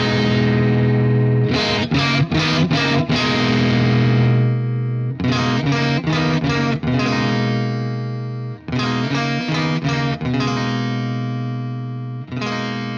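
Electric guitar played through a Marshall amp at the Marshall factory, bursts of strummed chords and quick picked notes ringing out in clean, chimey tones with long sustains and short pauses between phrases.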